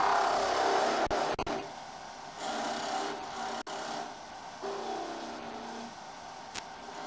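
Wood lathe running with a Robert Sorby Wobble Chuck, a steady whirring and rasping hum interrupted by a few sharp dropouts and clicks, close and alone without speech.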